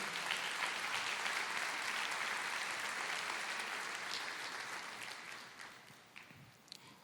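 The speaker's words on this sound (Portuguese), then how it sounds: "Aplauda o Senhor." Church congregation applauding the Lord, a steady wash of many hands clapping that tapers off toward the end.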